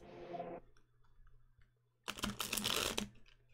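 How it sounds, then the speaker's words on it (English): A deck of SPLURT! game cards being shuffled by hand, a dense burst of riffling card noise lasting about a second after a brief spoken moment and a pause. "We shuffle them up."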